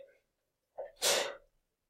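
A single sharp sneeze, preceded by a quick inhaling gasp, close and loud against otherwise quiet surroundings.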